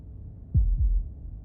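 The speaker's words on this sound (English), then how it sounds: "That was the sound of a heartbeat," Two deep, thudding heartbeats in the game Slay the Princess, loud and close, a double pulse followed by a second one with quiet low rumble between and no speech.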